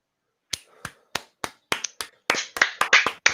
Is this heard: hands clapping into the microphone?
yes